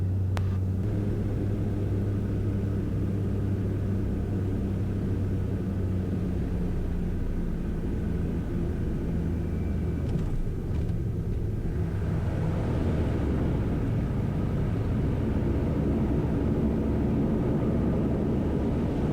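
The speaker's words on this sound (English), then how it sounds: "Start bringing the reversers out, and then I haven't even touched the brakes yet." A King Air turboprop rolls out after landing on the runway at Beaver Island, Lake Michigan, with the reversers coming in. A steady, loud cabin rumble and engine drone fills the whole stretch, swelling slightly toward the end.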